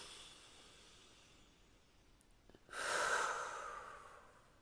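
A person breathes deeply during a guided relaxation exercise. A soft, faint inhale is followed by a louder, airy, sustained exhale close to the microphone.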